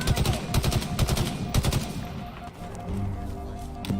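Rapid bursts of gunfire in the Halo Infinite video game, loud and close at first, then easing into softer shots and combat noise.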